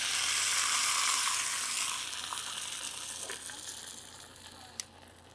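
Food dipped in oil lands on a hot flat-top griddle with a strong, close sizzle that gradually softens to a steady crackle, followed by a single sharp tap near the end.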